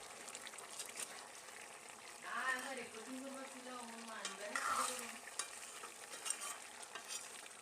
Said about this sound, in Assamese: কোমোৰাখিনি নিসিজালৈকে মাজে মাজে এনেদৰে লৰাই দি থাকিব।